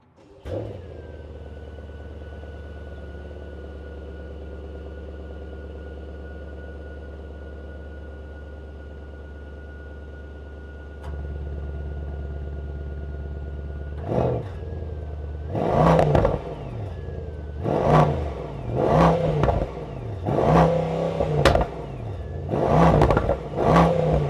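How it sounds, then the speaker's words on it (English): A 2024 Mercedes S 63e plug-in hybrid, 800 hp, idles with a low steady drone that steps up in level, then blips its throttle repeatedly in sharp, close exhaust revs. "Let's listen to the exhaust."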